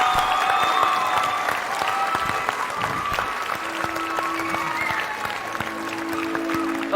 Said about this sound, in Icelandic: Og mér finnst við ættum að gefa þeim bara eitt klapp í lokin